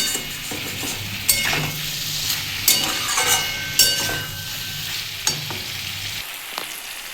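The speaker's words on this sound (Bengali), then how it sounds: "হলুদটা দিয়ে একটু ভালো করে নাড়িয়ে দিচ্ছি" Ridge gourd paste with turmeric fries in a pan with a busy sizzle. A spoon stirs and scrapes against the metal, giving several sharp clanks, and the frying cuts off abruptly near the end.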